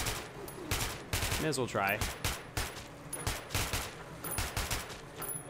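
Rapid gunfire from a weapon in Metro 2033 Redux, a dense run of close, punchy shots with a few brief pauses, while a voice speaks briefly over the shooting.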